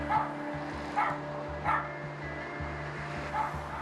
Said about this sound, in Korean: 인기척을 느끼고 자리에서 일어나 짖기 시작하는 녀석